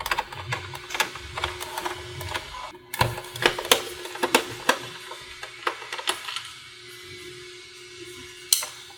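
Small Phillips screw being backed out of a Sega Dreamcast console shell, a string of sharp close ticks and light metallic clicks with irregular rhythm, a louder click near the end as the last screw comes free.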